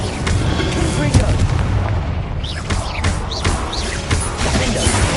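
Confringo fire-blast spell explosions in the video game Hogwarts Legacy, with loud booming blasts over dense, continuous game combat noise and effects.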